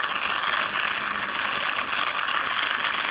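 A single phase AC motor, hand-started and spinning at about 2000 rpm, gives a steady, even whirring hum with a faint rattle, constant and close with no voices.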